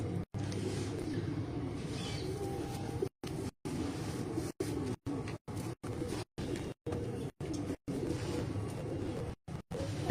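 Pet pigeons in a Sindh fancier's loft coo softly amid steady background noise, the sound broken by frequent brief dropouts.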